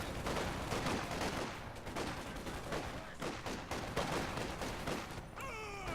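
A dense, continuous volley of small-arms fire from infantry squads in the real-time strategy game Company of Heroes 2, with steady overlapping shots and battle noise throughout.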